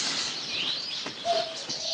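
Birds in a pet shop chirp and coo in a quiet scene from the film The Birds, with a few short tweets and a brief whistled call, fairly soft and nearby, with no speech.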